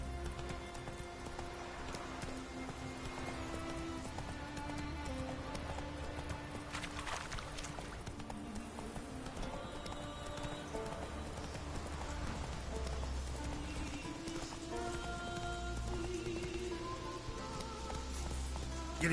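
The horse Roach's hooves clip-clop at a steady trot over a constant rain-like hiss and soft background music in The Witcher 3 game, with no speech heard.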